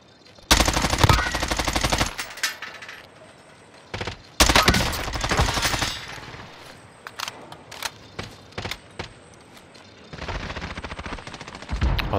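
Video-game machine gun fire comes in several loud, close bursts of rapid shots separated by quieter gaps, along with a few short single cracks, and no talking is heard.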